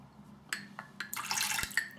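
Water pours into a glass bowl where a shaving brush is soaking, starting as a few light splashes and swelling into a steady, bright rush of liquid that runs for about a second.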